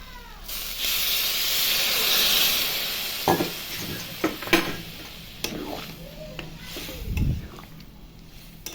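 Soybean curry hissing and sizzling in a hot pot as hot water goes in, a loud steamy rush first, then softer bubbling with scattered clinks and scrapes of stirring.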